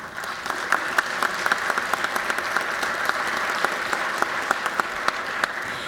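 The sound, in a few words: audience applause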